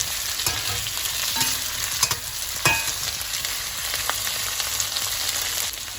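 Green and red chillies sizzle steadily in a hot pan, a continuous frying hiss with occasional scraping stirs and clinks, close and fairly loud with no talking.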